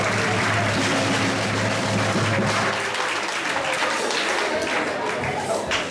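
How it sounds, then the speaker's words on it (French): Audience applause at a 2019 high school prize ceremony, sustained dense clapping from a roomful of people that carries on steadily with a faint voice underneath. "On peut les applaudir."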